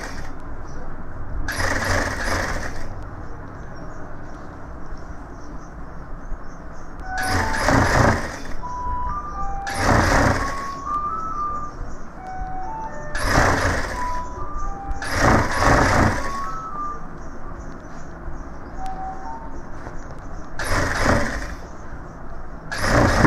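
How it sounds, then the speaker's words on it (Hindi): A sewing machine double-stitches the shoulder of a gents' suit in six quick bursts of rapid stitching, each separated by a pause, over a faint background hum. "शोल्डर पे हम ये डबल सिलाई करेंगे"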